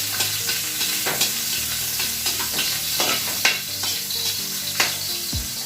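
Garlic sizzles steadily in a hot frying pan, a dense close hiss broken by repeated scraping knocks as a utensil stirs it, and a low thump near the end, with no voices.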